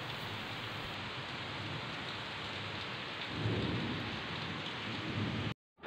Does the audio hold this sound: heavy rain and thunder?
yes